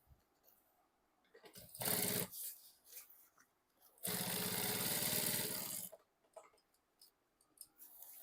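Domestic sewing machine stitching fabric for a homemade lunch bag, in two sustained whirring bursts, the second longer, separated by quieter handling noises, close and fairly loud.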